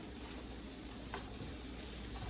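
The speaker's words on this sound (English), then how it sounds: "Peppers and onions sauteed." Peppers and onions sautéing in a pan for smoked sausage jambalaya give a steady, close, faint sizzle and hiss with a brief stir, no talk.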